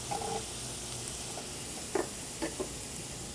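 Onion, green pepper and celery sizzle in a pan with browned beef, a steady low hiss of frying with a few stirring scrapes and clinks, alone and fairly quiet.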